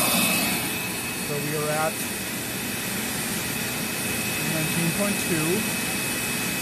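A Dirt Devil Ultra vacuum cleaner motor runs with the brush off inside an airflow test box, a loud steady roar with a high whine that fills the whole stretch while someone speaks briefly over it.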